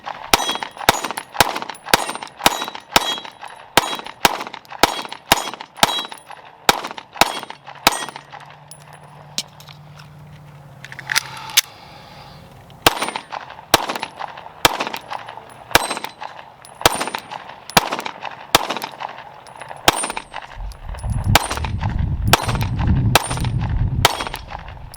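Rapid pistol shots from a Sig P365, sharp cracks fired in quick succession with a short pause midway, then a low rumbling noise near the end.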